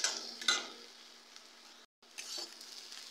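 Potatoes sizzle and fry in a pan with crackling bursts and a few stirring scrapes, fairly quiet and close, with a brief silent gap partway through.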